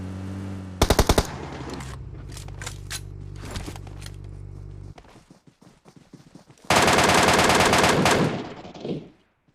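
MK rifle fire in a battle royale video game, loud rapid bursts of gunshots mixed with shorter single cracks and game effects, ending in a long sustained volley of automatic fire.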